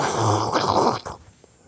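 A rough, rattling snore-like breath from a person being choked in a jiu-jitsu submission, strained and raspy, fading into near silence.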